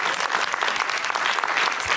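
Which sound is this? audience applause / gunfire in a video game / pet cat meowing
audience applause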